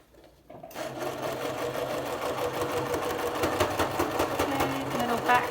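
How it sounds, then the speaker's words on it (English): An electric sewing machine runs steadily through an up-cycled cloth face mask, sewing around the edge and back-stitching to secure a strap at a corner, with a continuous close mechanical whir that starts after a brief quiet moment. "I'm going to sew around the outside of our mask, and I'm going to do a back stitch just to secure the strap in place"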